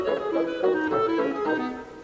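Clarinet line in lilting 6/8 set against bassoons in 3/4, the two meters layered in a continuous orchestral passage with swelling pulses, moderately loud and without voices.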